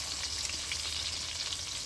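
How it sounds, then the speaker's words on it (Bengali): Salted potato pieces frying slowly in hot oil, a continuous soft hiss and gentle crackle, steady and fairly quiet with no talking. "আলুগুলো আমি আস্তে আস্তে ভাজা হতে দিই"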